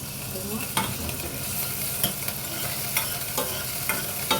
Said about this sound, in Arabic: نجيب بس ايه بنشوح فيها التومة كده بسيط ونوطي النار عشان التومة ما تتحرقش معانا